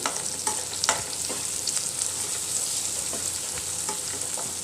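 Onions sprinkled with salt and turmeric sizzle in a hot pan while a spatula stirs them, giving a steady hiss broken by a few scraping taps.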